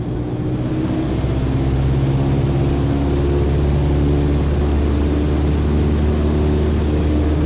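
Light aircraft propeller engine in a flight simulator game, throttled up to 2400 RPM, a steady loud droning hum with strong low harmonics throughout, no voices.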